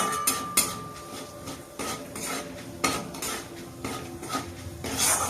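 Ground coriander and cumin being fried and stirred in a pan, with a metal spoon scraping and clinking in irregular strokes over a faint sizzle.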